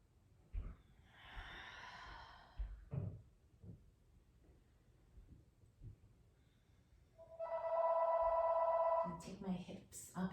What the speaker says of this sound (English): My phone's ringing, sorry about that